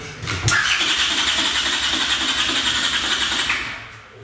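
A Honda CX 500 motorcycle engine cranks over on the starter with no spark and fails to catch, a steady whirring, rhythmically pulsing churn with a squealing edge that runs for about three seconds before cutting off, close and loud.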